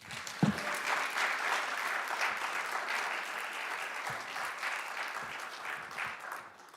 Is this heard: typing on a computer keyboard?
no